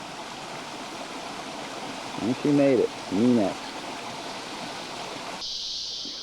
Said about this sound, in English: Going right across this little creek.